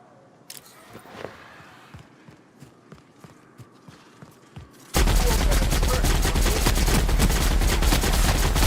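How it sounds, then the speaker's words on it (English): An upgraded heavy machine gun in The Outer Worlds opens up after a quiet stretch of scattered footsteps and small knocks, becoming a loud, continuous rapid-fire roar that holds steadily to the end. "I like the heavy machine gun once it's been upgraded."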